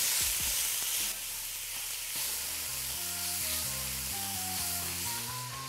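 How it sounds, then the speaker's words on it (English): Ground meat browns in a pan for lasagna while tongs break it up, giving a steady close sizzle and hiss that runs under background music throughout. "Use your tongs and break the meat up. We're gonna get a nice brown on that"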